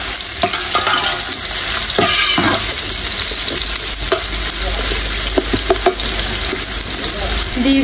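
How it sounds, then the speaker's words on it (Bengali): Duck meat being lightly fried and stirred in a pan, with a steady sizzle throughout and intermittent scraping stir strokes, close and fairly loud. "হালকা ভেজে নেব।"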